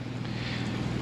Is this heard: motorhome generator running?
yes